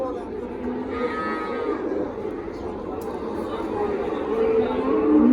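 A dairy cow moos in long, low drawn-out calls amid murmuring crowd chatter and background voices at a livestock market in Parkent.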